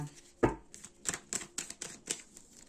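Tarot cards laid down one after another on a table, a series of about six soft, sharp taps and slaps in an irregular rhythm, close and fairly quiet, with no talking.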